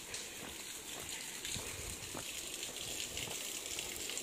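Mountain waterfall flowing: a steady, broad rushing and splashing of water, continuous and moderately distant, with no clear speech.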